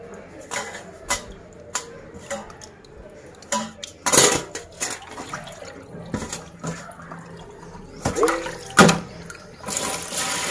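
Raw prawns being washed by hand in water, sloshing and splashing with scattered clatters of a pot or bowl, a few louder bursts of water and clinks spaced through the clip, close and fairly quiet.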